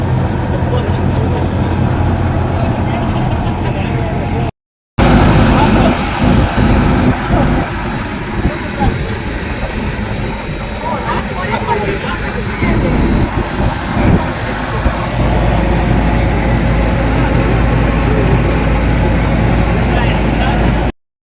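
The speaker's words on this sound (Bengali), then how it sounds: "সমুদ্রে যাবো এবার আমরা লং রেল বোট বলে এটাকে" A long-tail boat engine runs steadily at sea near Phuket, a loud continuous low drone with wind and water rush, briefly cut near the start, with voices talking over it.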